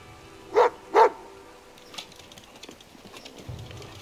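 A dog in As Dusk Falls gives two sharp, close barks in quick succession, followed by quiet background sound and a faint low murmur at the end.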